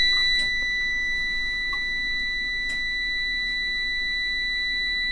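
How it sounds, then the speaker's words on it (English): Steady electronic beeping from a school bus conversion's ignition while the glow plugs heat up, two sustained high tones holding continuously for several seconds over a low background rumble, with no talking. "when you turn it to the on position, we have to wait till it says you're allowed to start it. And it's going to beep at us"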